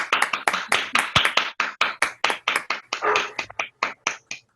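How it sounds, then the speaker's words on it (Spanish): A lecture audience, likely only a few pairs of hands, claps for an astronomy speaker: about twenty crisp, close claps in a steady, even rhythm, with no voices over them. "te damos un aplauso"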